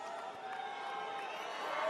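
A large convention crowd keeps cheering and roaring without letup, a dense, sustained wash of voices that swells slightly toward the end.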